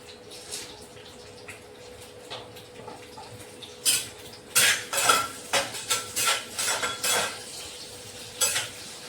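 Green chili and garlic go into fenugreek leaves frying in a pan, giving a soft sizzle with a run of close, rhythmic stirring scrapes and utensil clatter over a low background hum.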